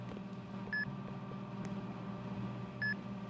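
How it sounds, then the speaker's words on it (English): A video game set in an animal hospital gives a short electronic beep at each 25 percent of progress. Two clear, high beeps sound about two seconds apart over a low, steady background hum. "It just beeps."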